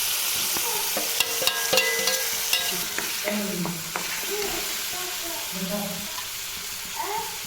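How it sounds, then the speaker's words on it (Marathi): Onion, tomato and masala sauté in oil in a pan for chole masala, a steady close sizzle broken by scraping stirs and small clinks of a spoon, with no talking over it. "नंतर परत एक पळी तेल मी यात टाकलंय आणि मसाला छान परतून घेते मी आता"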